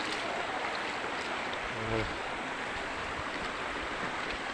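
A river flows as a steady, broadband rush of water throughout, close and continuous, with a brief faint tonal sound partway through.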